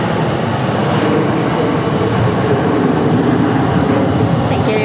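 An American Airlines Airbus A321 jet at Phoenix Sky Harbor Airport gives a steady, loud broadband roar that holds for the whole stretch with no breaks.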